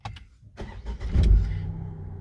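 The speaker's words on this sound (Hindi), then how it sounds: "अब जैसे हमने गाड़ी को स्टार्ट किया" A Tata Altroz car engine cranks with a few short clicks and bursts, then catches and settles into a steady low idle rumble, close and fairly loud.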